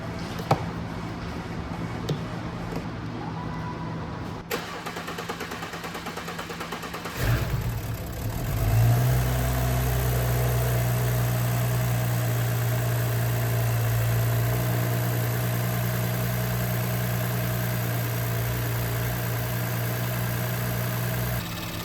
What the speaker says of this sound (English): we can start the engine for the first time